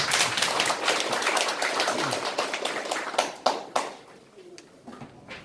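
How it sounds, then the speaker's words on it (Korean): Audience at a Korean healthcare panel forum clapping for the chair and panelists, a dense run of hand claps that thins into a few separate claps before fading out. "우리 먼저 조승윤 원장님하고 패널 분들한테로 박수 한번 보내주시죠."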